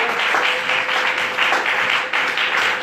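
A church congregation claps and applauds steadily, dense and sustained, with a faint tone running underneath.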